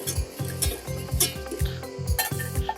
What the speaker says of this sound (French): je vais venir fouetter pour bien mélanger